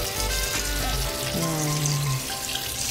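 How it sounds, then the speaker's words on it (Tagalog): Tap water runs and splashes over cooked spaghetti noodles in a kitchen sink or colander, a steady close hiss of flowing water with brief tonal squeaks and clatters mixed in. "Basain natin ng tubig."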